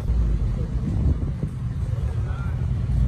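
A Mini Cooper, an Austin Mini rally car, passes across a town square, its engine a steady low rumble mixed with wind buffeting and street noise throughout.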